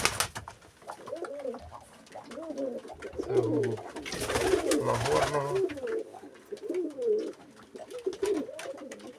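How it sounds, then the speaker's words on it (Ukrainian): Domestic pigeons coo repeatedly in soft, throaty bursts, several birds close by overlapping in a steady, murmuring rhythm. "А це вже мої голубенят."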